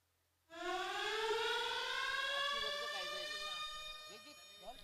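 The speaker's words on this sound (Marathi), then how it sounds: "सायरन वाजलाय" An electronic siren at a local cricket league match starts abruptly and holds a loud, rising wail for several seconds, then eases slightly toward the end, with faint background activity beneath it.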